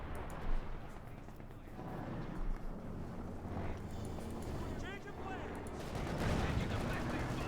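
Company of Heroes 2 battle between Wehrmacht and US Forces, with bursts of .50 cal machine gun fire and scattered explosions under a commentator's continuous talk, loud crackling rattles building toward the end.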